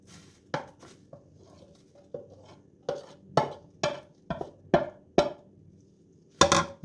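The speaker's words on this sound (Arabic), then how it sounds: "وهلا بنخلطهم كلهم مع بعضهم منيح" Finely chopped sushi nori, avocado and smoked salmon mixed together in a bowl, heard as a series of soft, irregular knocks and scrapes of the utensil, close up, with no talking.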